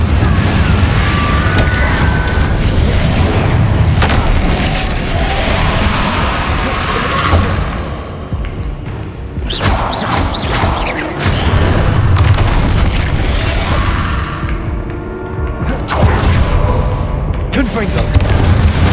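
Repeated fire-spell explosions from Confringo casts in the video game Hogwarts Legacy: booming blasts and crackling bursts recur loudly through dense battle noise, with a voice calling out at times.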